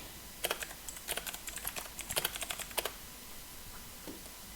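Typing on a computer keyboard: quick clusters of light plastic key clicks in two bursts, close and fairly quiet in a still room, with a single stray tap near the end.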